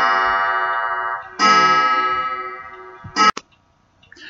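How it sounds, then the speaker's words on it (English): A clock chiming in a room behind the person, sounding strong sustained bell-like tones that ring out and slowly decay, followed by a second struck chime and a brief sharp click, with no talking. "So that was my clock just behind me chiming."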